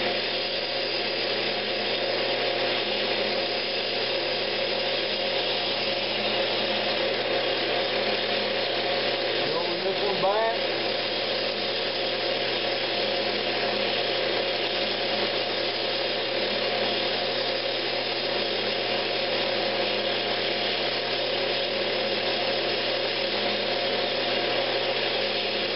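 Woodturning tool cutting a spinning wooden Christmas ornament on a lathe, rounding over the corners, with a steady whirring motor hum and a soft continuous scraping of the cut.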